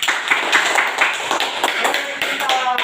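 A classroom of students claps hands together, a lively run of overlapping claps with a few sharper accents, while voices talk over the clapping.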